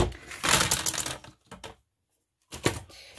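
A We R Memory Keepers Work All-in-One hand punch tool clicks and thumps as it perforates holes in paper, two separate bursts of sharp mechanical crunching split by a short silence, close and clear.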